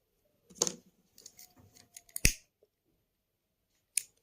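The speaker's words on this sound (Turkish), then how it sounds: "ipimi kesiyorum" Scissors snip through crochet yarn in a quick run of close, crisp cuts, then a lone final snip after a short quiet pause.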